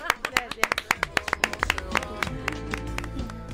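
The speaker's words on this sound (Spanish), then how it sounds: "Te damos un aplauso." A small group claps in quick, uneven bursts, close by, the clapping thinning out after a couple of seconds as a voice carries on beneath.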